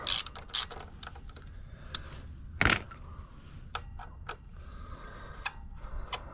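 A ratchet wrench loosens the axle pinch bolt on the fork of a 1991 Venture Royale motorcycle, giving sparse, crisp clicks and metallic ticks at close range in a quiet space.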